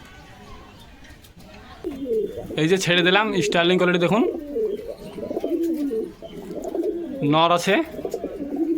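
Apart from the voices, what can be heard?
pigeons cooing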